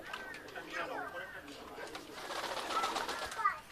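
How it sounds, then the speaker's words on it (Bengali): Giribaz pigeons coo among a large flock, soft repeated coos and wingy bird sounds close by, with a person talking over them. "এই সাইজে দেখুন প্রচুর প্রচুর পায়রা দেখুন"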